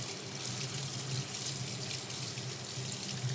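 Food packed in olive oil being rinsed under a running kitchen tap, a steady, close stream of water splashing into a sink, continuous and even.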